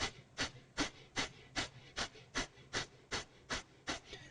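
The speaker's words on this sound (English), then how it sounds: "And then from here, breath of fire." Rapid breath-of-fire yoga breathing: about ten sharp, evenly spaced nasal exhalations in a steady pumping rhythm, close and clear with no talking.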